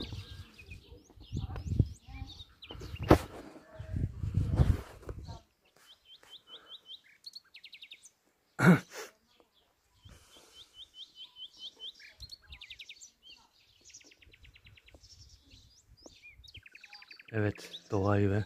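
Birds chirping and tweeting in short repeated phrases outdoors in a village garden, with talking and rustling at the start and end and quieter stretches of birdsong between.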